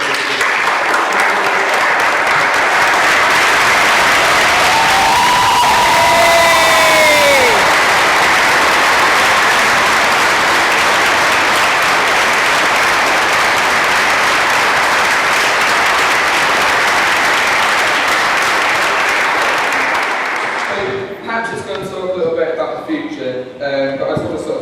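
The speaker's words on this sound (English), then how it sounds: "big round of applause for Patrick" Loud, sustained applause from a large audience at a school speech day, a dense continuous roar of clapping that carries on for about twenty seconds before tailing off, with voices briefly heard over it partway through and as it dies down.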